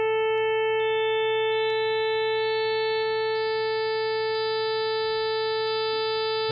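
Steady synthesized sine tones stacked into a harmonic overtone series mimicking a trumpet, with higher partials entering one after another over a faint low hum, loud, smooth and sustained without any voices.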